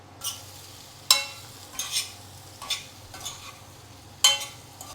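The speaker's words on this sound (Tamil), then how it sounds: "இதை லோ ஃப்ளேமில் ஒரு 5 to 10 மினிட்ஸ் விட்டோன்னா சூப்பராக ரோஸ்ட் ஆகிடும்" Potatoes roast in a pan over low flame, with a steady background sizzle broken by several sharp, close scraping stirs at uneven intervals.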